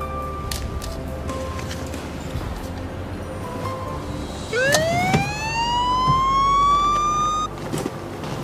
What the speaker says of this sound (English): The car was outfitted with a police siren and police lights.